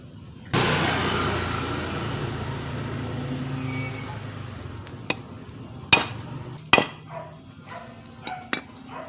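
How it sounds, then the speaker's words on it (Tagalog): After a long mechanical hum, several sharp metallic hammer strikes ring out on a rusty bicycle front rack brace at irregular intervals, close and loud, with lighter taps between them. "Ilang pukpok lang, nabago na angle niya."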